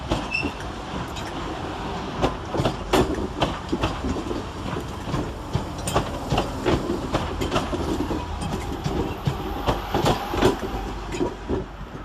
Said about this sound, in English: Whilst arriving to terminate with a Northern Rail service off of Crewe is 323223.